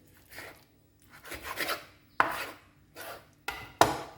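A knife chops and saws through frozen chicken on a board, with rasping strokes followed by several sharp, loud chopping cuts, close by with no talk.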